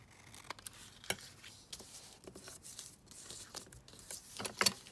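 Scissors trim paper in a quiet series of short, crisp snips and rustles, irregular and close, with small crinkling paper handling between cuts.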